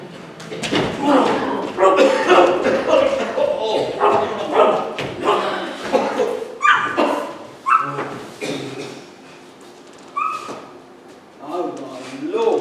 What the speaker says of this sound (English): Right, get that dog back,